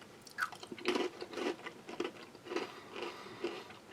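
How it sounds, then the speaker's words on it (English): Crisp crunchy bites and chewing on cheddar cheese crackers from a US Army MRE, several close crunches in a steady rhythm, no talking. "Still firm, still crisp, still crunchy."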